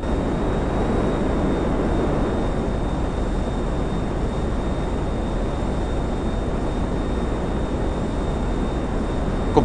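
A fighter jet climbing in Grand Theft Auto V gives a steady, loud, unbroken engine roar, with a thin constant whine above it and no talk.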